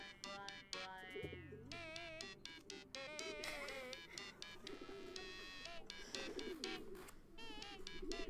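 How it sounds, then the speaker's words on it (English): Pigeons in the point-and-click game Hiveswap coo and flutter over busy game music, with warbling calls layered through the whole stretch and no voices. "So we're sending the pigeons out,"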